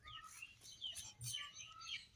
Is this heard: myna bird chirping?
yes